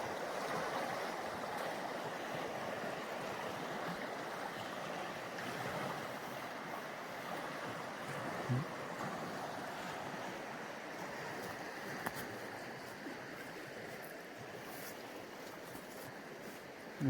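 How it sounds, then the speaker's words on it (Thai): Water rushes steadily in a constant broadband wash, moderately loud and continuous throughout, with occasional faint knocks and no talking. "น้ำไหลแรงมากเลย"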